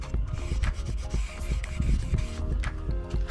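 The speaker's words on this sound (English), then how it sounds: "I'll just razor blade the windows quick, get everything ready so we're ready for paint." A razor blade scrapes paint overspray off van windows, giving steady, close, rhythmic rasping strokes that continue without pause.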